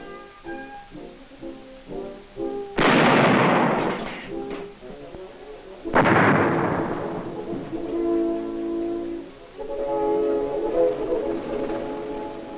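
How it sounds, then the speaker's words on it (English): Army artillery fires during training in Taiwan in 1966, two heavy booming blasts a few seconds apart, each loud and close with a long rumbling decay, followed by lingering mechanical noise. "It isn't long before trainees graduate from miniature to real firing."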